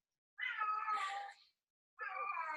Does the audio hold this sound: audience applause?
no